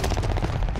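Rapid automatic fire from a Type 100 submachine gun in Call of Duty: Modern Warfare, a dense, continuous burst of loud shots with no pauses and no talk.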